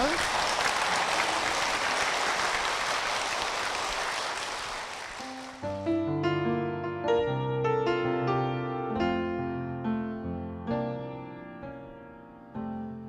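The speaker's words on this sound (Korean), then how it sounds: "두 분께 힘찬 축복의 박수 부탁드리겠습니다" Church congregation giving a strong round of blessing applause, dense and loud for about five seconds before fading under a piano or keyboard playing a worship song.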